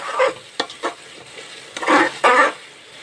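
Masala sautéed and stirred in a pan crackles with a soft sizzle, broken by a few scraping strokes and two louder bursts of stirring near the end, with no voices.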